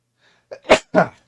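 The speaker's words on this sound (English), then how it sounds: "I have to sneeze." A single sharp sneeze with a quick inhaled catch before it, loud and close, then quiet.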